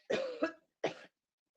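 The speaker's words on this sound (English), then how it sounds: "it's just a cough" Two short, harsh coughs close by, the first a double burst, followed by silence.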